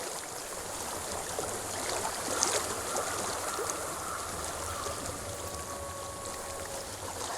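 Flowing water in the game Hellblade: Senua's Sacrifice, a soft continuous trickling stream with faint ambient tones and no speech.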